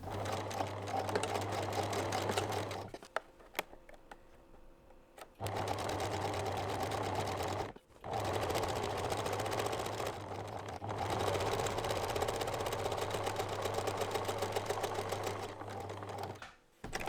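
Sewing machine stitching a reversible drawstring bag made from fat quarters, with a backstitch. It runs in loud, steady whirring bursts, broken by short pauses and a brief stop near the end.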